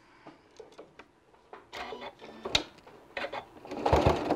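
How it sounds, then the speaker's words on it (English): Sewing machine stitching a fabric seam through a bulky scrap-fabric gift card case, running in short bursts with brief stops and a louder, denser run toward the end, close and fairly quiet, no talking. "All right, we're going to stitch this down."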